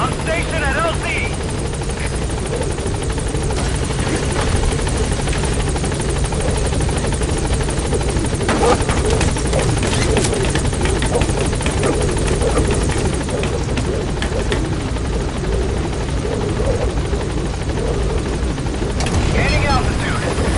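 The B-Quad support helicopter in Metal Gear Solid V arriving at a landing zone, a loud continuous rotor roar throughout, with radio voices talking over it and faint gunfire mixed in.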